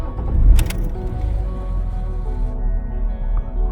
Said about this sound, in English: about to start my car again, and let's see where the headlights are going to line up